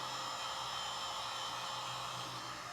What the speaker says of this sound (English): I'm going to hit this area right here with a heat gun